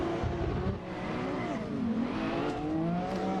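Drift cars rev hard at a Irish drifting competition, a sustained loud engine roar with rising and falling pitch and a faint tire squeal, continuous with no pauses.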